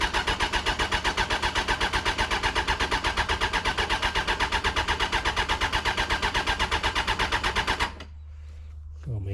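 The engine of a 1997 Suzuki Bandit GSF600 motorbike turns over, with a fast, rhythmic starter chug close up, loud and unbroken for about eight seconds before it cuts off abruptly.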